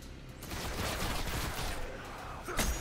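A burst of gunfire in the sci-fi shooter Destiny crackles close and dense for a couple of seconds, rapid overlapping shots with a sharper report near the end.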